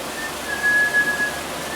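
A person whistling a thin, steady single tone in the middle of the clip, faint against background noise.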